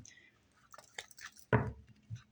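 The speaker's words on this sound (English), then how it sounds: "One more shuffle." A deck of tarot cards being shuffled during a reading, heard as soft rustling, then one louder, crisp riffling burst near the end, close by and with no talking.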